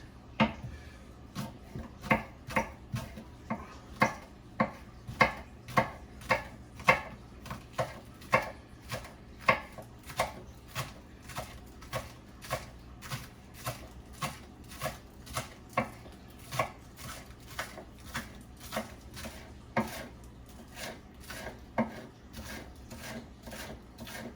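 A knife chops green onions on a cutting board in a steady rhythm of crisp, close strikes, roughly one or two per second over a long run, with no talking.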